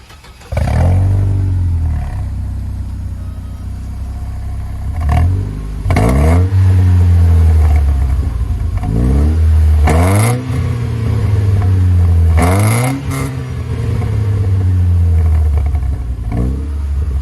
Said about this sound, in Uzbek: Endi ishlash eng qiziq joyi motorni ovozini eshitib ko'ramiz